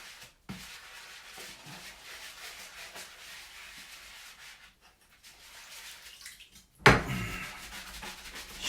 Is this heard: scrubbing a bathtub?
yes